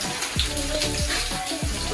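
Water poured steadily while cooking mashed potatoes, a continuous close splashing gurgle with a few rhythmic glugs.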